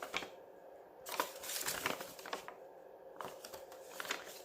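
Paper rustling and crinkling as junk journal pages are flipped by hand, a series of close, soft crackly bursts with brief quieter gaps between them.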